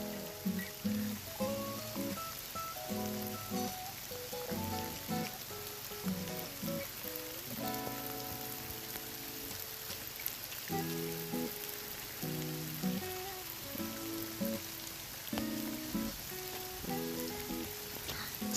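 A steady, even wash of rain falls and patters on surfaces, with no break, on a cold day heavy enough to cause flooding. Tonal sounds drift in over it now and then.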